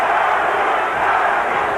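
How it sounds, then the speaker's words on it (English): A dense arena crowd at a Larry Holmes versus Michael Spinks boxing rematch, roaring and chanting in support of Holmes, loud and continuous throughout. "Larry, Larry, the crowd very much in support of the challenger"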